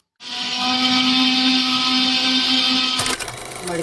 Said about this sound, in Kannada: ಫಸ್ಟ್ ಇದನ್ನು ಮಿಕ್ಸಿನ ಮಸಾಲೆ ಮಾಡ್ಕೋಬೇಕು.